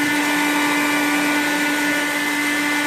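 A kitchen blender runs continuously, blending grated beetroot into liquid with a loud, steady high-pitched motor whine and a constant churning roar that never lets up.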